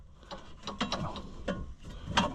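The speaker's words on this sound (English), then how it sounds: "I don't know why it's now decided to start clicking. whenever I want to start it sometimes." A White 700 tractor clicks when trying to start, a close run of sharp irregular mechanical clicks and ratcheting snaps, about eight or nine over a couple of seconds, no talking.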